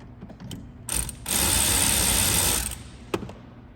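A ratchet wrench clicks loosening a 10 mm battery terminal nut on a 2022 Chevrolet Silverado, with a few separate ticks, then a fast continuous run of clicks lasting over a second, then one last sharp click.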